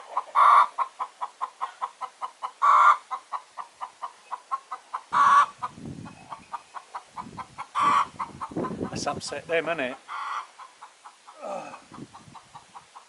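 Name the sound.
chickens clucking on smallholding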